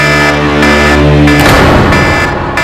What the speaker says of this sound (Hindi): ये अलार्म सुन रहे हो ना, ये उनके अंदर आते ही बजेगा